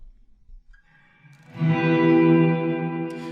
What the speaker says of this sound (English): the reverb is kind of washing the tremolo